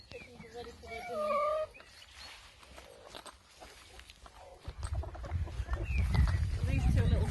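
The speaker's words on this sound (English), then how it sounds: "Chickens are ready for their dinner." Hens cluck and call at feeding time in a farmyard, with scattered squawks early on and rustling, movement and footsteps building louder toward the end, the birds fairly close.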